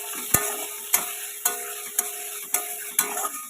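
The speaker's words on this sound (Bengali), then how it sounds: "পেঁয়াজটা ভালো করে ভাজা ভাজা করে নিই।" Chopped onions frying in a pan for an egg curry, with a spatula scraping and stirring about six times in a steady rhythm over a continuous close sizzle; no talking.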